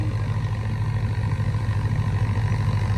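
A tractor engine runs steadily and loudly nearby with a continuous low rumble and no break; no voices are heard.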